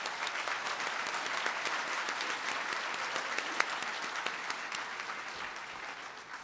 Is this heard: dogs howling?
no